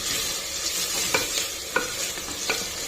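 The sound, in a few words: ginger garlic paste frying in a pan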